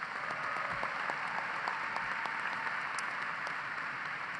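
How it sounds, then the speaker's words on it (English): A commencement crowd at a university College of Engineering ceremony applauds civil and environmental engineering graduates, a steady, even wash of many hands clapping that carries on at moderate level. "Please join me in a round of applause for our civil and environmental engineering graduates"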